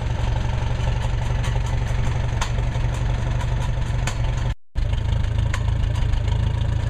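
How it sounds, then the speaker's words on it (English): An old tractor engine runs at a steady idle with a rhythmic low chugging, loud and close, briefly cutting out for a moment before continuing. "So I pull out the ignition switch and give a step on the starter."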